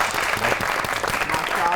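Audience at a poetry and comedy show applauds a poet, steady dense clapping throughout, loud and close, with crowd noise mixed in.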